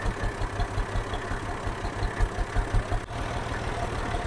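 A tractor engine idles and runs at a farm preparing to plant paddy, a low, fairly quiet rumble with a rhythmic pulsing throb and no talking.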